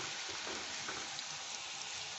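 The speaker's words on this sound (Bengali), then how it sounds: "আমি নিমকিগুলো ভাজার জন্য কড়াইতে তেল দিয়ে দিয়েছি, আর এইগুলো তুলে নিয়েছি, দিয়ে দিচ্ছি কড়াইতে" Nimki dough fries in hot oil in a kadai, giving a steady, soft, continuous sizzle with faint bubbling and no talk.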